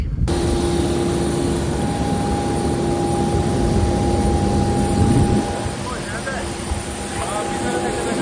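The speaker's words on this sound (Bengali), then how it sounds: "কক্সবাজার টু ঢাকা আমরা এই US বাংলা বোয়িং করে যাব। বেশ বড় একটি বিমান।" A large US-Bangla Boeing airliner during boarding, its engines giving a loud, steady roar with a constant tone, easing slightly toward the end, with faint talk in the background.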